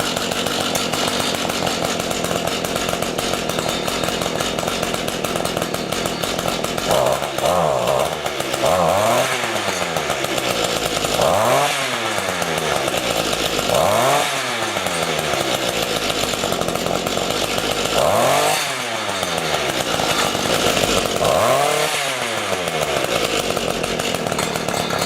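A small two-stroke garden engine with a freshly cleaned carburetor runs loudly and close by. It drones at a steady idle, then surges in repeated rising-and-falling revs every few seconds, each one falling back without holding speed.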